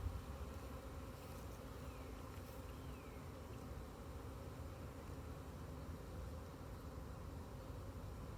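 Honeybees drone in a steady, dense hum around an open, unsmoked hive of calm bees during a beekeeping field day, with the buzzing continuous and fairly close for the whole stretch and no voices.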